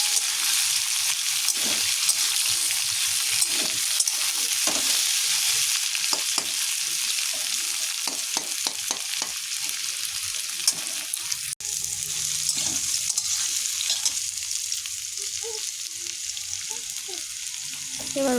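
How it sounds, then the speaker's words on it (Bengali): Potatoes and onions frying together in a pan, a loud continuous sizzle with repeated clinks and scrapes of stirring, close up with no talk. "আলু পেঁয়াজ একসাথে ভেজে নেব।"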